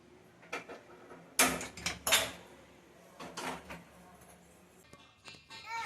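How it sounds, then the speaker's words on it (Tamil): A pressure cooker lid being closed and the cooker set down on a stove for mutton biryani: several sharp metallic clanks and scrapes in quick succession, close and clear, with faint background noise. "குக்கர் க்ளோஸ் பண்ணி நம்ம அடுப்பில் வச்சிடலாம்."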